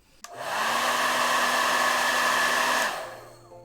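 A hair dryer blows steadily on eyelashes during a makeup session, switching on with a click and running loud and close for a few seconds with a constant whirring tone before cutting off.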